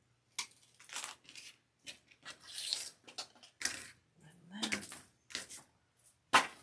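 Scissors trim floral picks for a St. Patrick's Day deco mesh evergreen swag, giving a series of short crisp snips and rustles of stems and mesh at close range, scattered irregularly with brief pauses between cuts.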